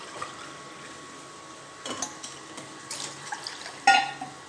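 Water, measured out by the tumbler, runs and splashes into a cooking pot in a few short bursts, fairly quiet, with no voices.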